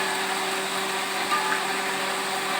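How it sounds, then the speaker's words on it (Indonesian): An electric kitchen blender whirs steadily as it grinds a spice paste containing roasted candlenuts for Indonesian mie tek tek noodles. The motor hum stays fairly quiet and even throughout, with no speech. "kita blender bumbu halus, bumbu yang dihaluskan"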